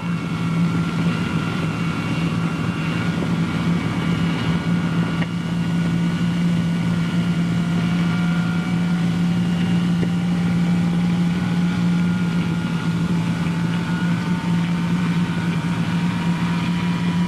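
Jet engines of a B-47 Stratojet bomber starting, a steady low hum with a thin whine that slowly climbs in pitch as an engine spools up, continuous and fairly loud.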